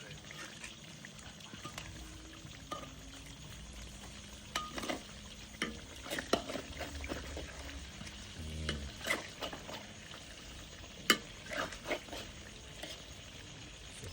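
Marinated white fish in batter deep frying in hot oil, a steady low bubbling sizzle with scattered stirring clinks and scrapes, fairly quiet, with occasional faint voices in the background.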